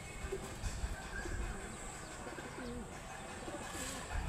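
A flock of pigeons coos in low, repeated warbling phrases over a steady wash of background noise, with the calls spaced a few seconds apart and moderately distant.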